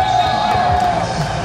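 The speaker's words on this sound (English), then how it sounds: "German fans in the crowd here celebrating" German fans in the crowd at a junior track cycling world championships in Aigle cheer and celebrate, a continuous roar of crowd noise under a steady tone, with no clear individual voices.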